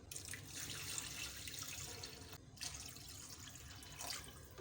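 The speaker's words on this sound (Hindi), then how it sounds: "मैं पानी और डालूँगी" Water pours into a pot of soaked basmati rice for beef yakhni pulao, giving a steady, fairly quiet splashing rush that runs continuously, with a brief dip midway.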